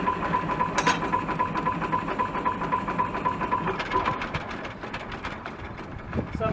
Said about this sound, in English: Now that we've got the engine running, we got some draft up the stack.